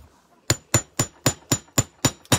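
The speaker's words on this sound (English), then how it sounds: "And now I'm going to hammer it a little bit." Small hammer striking a metal wire dangler for a bead ornament, eight sharp evenly spaced taps in a steady rhythm, close and moderately loud with no speech.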